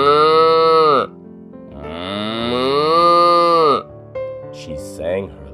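A person imitates a cow with two long, drawn-out low moos, the second rising and falling, then brief softer grunting sounds, close and clear with no other talk.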